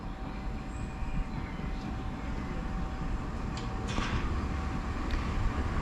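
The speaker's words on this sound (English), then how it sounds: "Here is our train to take us to Hildenborough, the next station on the plan today." A Class 465 electric multiple unit pulls into a Kent station platform bound for Hildenborough, a low steady rumble and hum building gradually with faint squeals and clatters near the middle.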